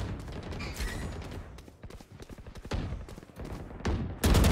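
Rapid gunfire from a video game deathmatch, bursts of shots crackling in quick succession with a louder, denser volley at the very end.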